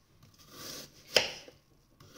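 A knife cuts apples into thin strips on a board, a soft slicing rasp followed by one crisp chop, close and quiet with no talk.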